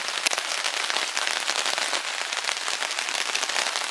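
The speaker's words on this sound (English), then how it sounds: "And as you can hear, it's raining." Rain falls steadily on a tent during a camping night at Nimisila Reservoir, a dense, close patter of drops with no voices.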